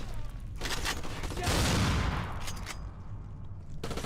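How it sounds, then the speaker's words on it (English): Heavy, sustained gunfire from the PS2 shooter Black, a dense fusillade of powerful weapon blasts rolling continuously for about four seconds with a loud swell in the middle, no voices. "the guns feel incredibly powerful, with Black boasting some of the best feeling shotguns in all of gaming"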